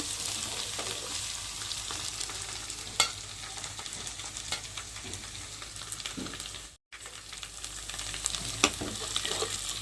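Onion paste fries in hot oil with a steady, even sizzle and crackle, a few brief louder pops and one short break in the sound, with no voices.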